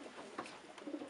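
A pigeon raised from racing stock coos softly a few times in a short burst, faint and close by, with no voices over it.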